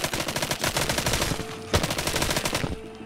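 Rapid gunfire in the VR game Arizona Sunshine: a dense, continuous rattle of shots, loud and close, with one sharper crack near the middle before the volley tails off.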